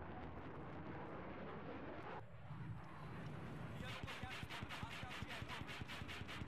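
Helicopter rotor thudding in fast, regular beats over a broad engine roar in Battlefield video game combat on the Caspian Border map, with people talking throughout.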